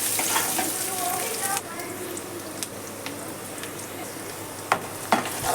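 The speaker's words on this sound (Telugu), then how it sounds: "ఆయిల్ హీట్ అయిన తర్వాత ఉల్లిపాయలు, పచ్చిమిర్చి ముక్కలు వేసుకొని ఫ్రై చేసుకోవాలి." Onions and green chillies, with turmeric added later, frying in hot oil for a fish curry, giving a steady broadband sizzle with a few sharp clicks and stirring scrapes near the end.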